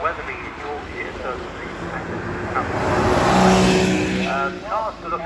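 A Porsche Boxster of just under 3 litres, hood down, racing up the Shelsley Walsh hill climb, its engine note rising as it approaches and passes beneath steady commentary in an outdoor crowd setting.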